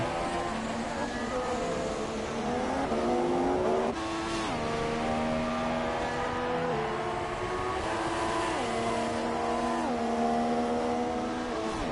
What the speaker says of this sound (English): Coyle side by side with Curtis for P3, going 224 in DRS 225 before braking hard.